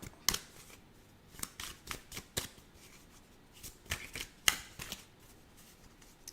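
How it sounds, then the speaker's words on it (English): Tarot cards are shuffled and drawn from a deck, a string of crisp, close riffling snaps and soft slides in irregular bursts, with quiet pauses between them and no talking. "Let's get a card out."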